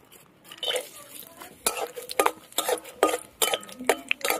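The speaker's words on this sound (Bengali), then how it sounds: "বিট ভাজায় বাদাম দেবো, বাদামগুলো ভেজে নেব।" Peanuts fry in oil in a wok for a beetroot fry, stirred with a utensil that scrapes and clatters against the metal in quick irregular bursts over a faint sizzle, close by.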